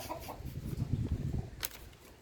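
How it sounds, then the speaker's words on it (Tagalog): Black Australorp hen clucking in a few low, rough bursts, fairly faint and close against a quiet farmyard background. "Sumasabay na naman ang manok na to."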